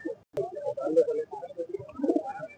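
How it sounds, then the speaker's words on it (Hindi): Soft, low cooing of pigeons at a bird market repeats throughout, with a sharp click early on and faint bird noises around. "वसी भाई ये कौन सी क्वालिटी का कबूतर है"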